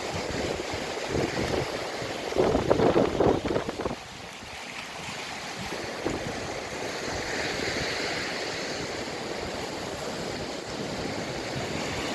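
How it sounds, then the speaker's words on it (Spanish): Sea waves roll onto a stony beach strewn with pebbles, a broad wash of surf that swells louder for a moment and then settles into a steady roar, with wind buffeting the microphone and no voices. "Hay buenas olas para surfear aquí."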